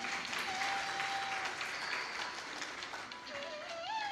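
An audience at a Hindu religious discourse about Ganga Dussehra claps in steady, continuous applause that sounds fairly distant and soft throughout.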